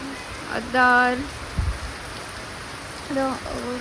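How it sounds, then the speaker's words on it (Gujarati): Heavy rain pouring steadily in a constant, close hiss with no breaks, while a voice briefly speaks over it a couple of times. "ફૂલ વરસાદ ચાલુ થઈ ગયો"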